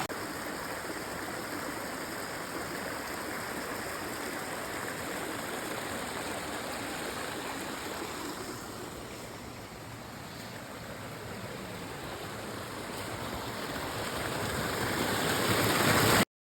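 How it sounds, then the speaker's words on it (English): Heavy rainwater runoff from a golf course pours and rushes steadily like a loud stream, a continuous broadband wash that swells slightly louder toward the end, with no voices. "this is just pure water coming off of a golf course."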